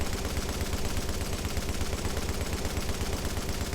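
An M60 light machine gun in The Division held on full automatic, a rapid, unbroken stream of evenly spaced heavy shots, loud and close for the whole stretch.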